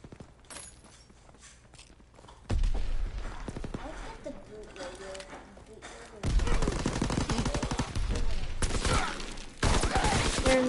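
Gunfire in the Call of Duty WW2 zombies mode, repeated bursts of shots and heavy impacts in several loud clusters, mixed with game effects and footsteps while a player talks.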